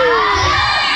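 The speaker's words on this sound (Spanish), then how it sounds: "Dice Mario que griten Mario, todos los niños, dice" A crowd of children at an aid visit for families hit by Hurricane Julia shout loudly and together, a dense, near, sustained chorus of young voices.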